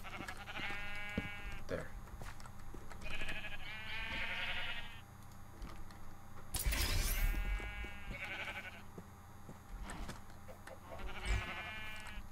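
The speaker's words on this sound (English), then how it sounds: "If these sheep would really just get off." Sheep in a modded Minecraft-style game bleat repeatedly in short, wavering calls, fairly close and clear, spread across the scene with a few thumps and a brief spoken word in between.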